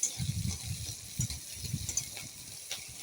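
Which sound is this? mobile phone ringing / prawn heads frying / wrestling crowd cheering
prawn heads frying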